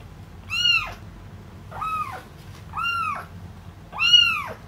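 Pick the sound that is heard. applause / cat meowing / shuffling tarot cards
cat meowing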